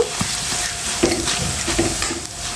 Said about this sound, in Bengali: আবারও কিছু চিপস দিয়ে দেবো আর তেলটা কিন্তু আমার একদম গরম আছে নেড়ে সেরে সুন্দর করে ভেজে নেব